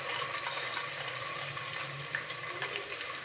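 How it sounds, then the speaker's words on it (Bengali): Onion and spice paste frying in hot oil for a South Indian bagar bhat, a steady close bubbling sizzle with faint stirring clinks throughout. "এটা ভালোভাবে তেলে তোমরা ভাজবে 5 মিনিট।"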